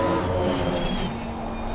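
An Aston Martin race car engine in Assetto Corsa Competizione drones steadily with a slightly wheezy, buzzing tone, holding a constant level throughout with no voices.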